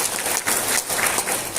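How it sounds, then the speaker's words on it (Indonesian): An audience at an Indonesian government talk on stunting claps together in a brief, loud, continuous burst of applause with a slightly pulsing rhythm. "Ini tepuk tangan dulu teman."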